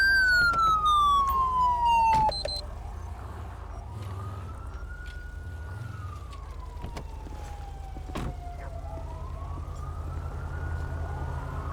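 Ambulance siren in the GTA V LSPDFR police game, a wailing tone sweeping up and down, loud at first and then continuing at a steady moderate level.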